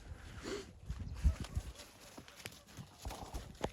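A mare's hooves clip-clop in a quick uneven rhythm at close range after losing a horseshoe, with scattered soft knocks and faint background noise.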